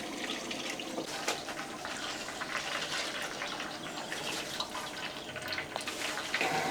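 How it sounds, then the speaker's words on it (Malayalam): Coconut oil is poured into a large pan heated for frying chicken for a big batch, a quiet continuous liquid trickle and drip close by, with no talk. "ചൂടായതിന് ശേഷം നമുക്ക് കുറച്ച് വെളിച്ചെണ്ണ ഒഴിക്കാം."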